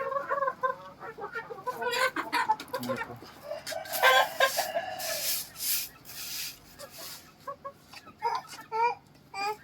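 Chickens cluck and a rooster crows on a chicken farm, with scattered bird calls and some rustling; a voice is heard faintly at times.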